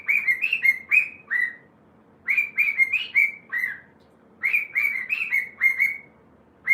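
Pet bird at home in a house with a cockatoo, giving loud close whistled chirps in quick bursts of four or five notes, repeated three times with short pauses between.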